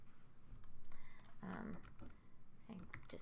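Keys clatter on a computer keyboard in quick, soft bursts, close and fairly quiet, with brief pauses and some faint speech mixed in.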